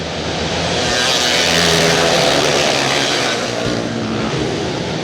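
Kage karts race on an indoor speedway in a loud, dense roar of several engines. The blurred droning swells and fades slightly as the pack passes.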